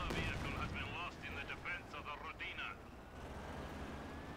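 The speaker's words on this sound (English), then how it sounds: "SU-85 is going to try and take some shots through the hedge here" An SU-85 tank destroyer in Company of Heroes 2 firing through a hedge, with battle shots and booms sitting underneath a caster's talking, fairly faint in the mix, followed by a quieter rumbling tail.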